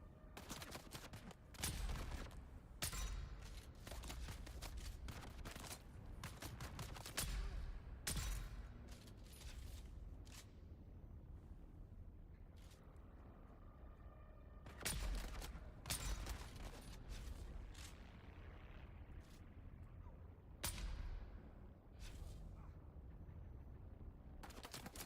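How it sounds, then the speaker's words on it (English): Sniper rifle shots in the video game Dune: Awakening crack out one after another in sharp, loud bursts at irregular intervals, with quieter ambience between them. "This sniper rifle is Thurfir's best"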